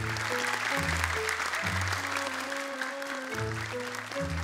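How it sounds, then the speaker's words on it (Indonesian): Studio audience on an Indonesian Quran memorization TV contest applauds, a steady broadband wash of clapping under a loud layer of sustained musical tones throughout. "Penonton aja langsung tepuk tangan sekali dong buat Pak Alif."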